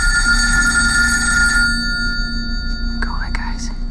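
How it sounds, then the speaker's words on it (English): An old-style telephone bell rings loudly and steadily in a house. The sustained ringing fades out partway through, and a faint voice can be heard under it. "Hey, it's just a phone, right?"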